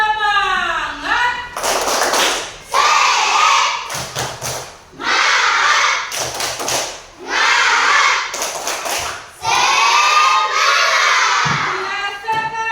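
A class of children performs a spirit clap chant, shouting in unison between bursts of sharp rhythmic clapping, loud and close, in several repeated phrases.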